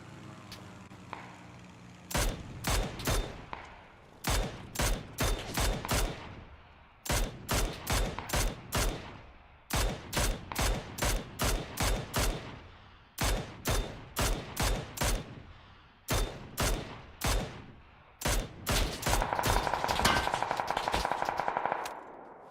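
Gunfire in the video game PUBG, rapid bursts of automatic shots in repeated short volleys with brief pauses between them, fairly close and crisp, no talking.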